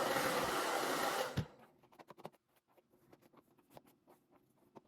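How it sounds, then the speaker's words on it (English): A hair dryer blows loudly and steadily on dry hair treated with a protein smoothing spray, then cuts off after about a second and a half, leaving faint handling noises. "We're going to blow dry as normal"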